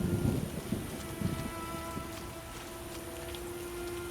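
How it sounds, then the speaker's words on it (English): Rain falls steadily in The Witcher game, a soft continuous patter with a low thunder rumble fading early, quiet and even throughout without speech. "at least someone is happy with some rain, because I like it."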